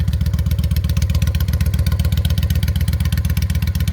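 A 1995 Honda VLX motorcycle engine idles steadily after a hard ride, its low, even pulsing loud and close, with a rapid, regular throb and no talking.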